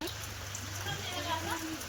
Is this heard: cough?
no